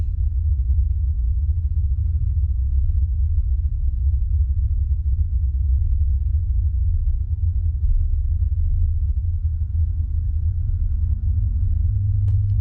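Car driving slowly along a road through Grand Haven State Park and campground: steady low engine and tyre rumble, constant and close, with no talking.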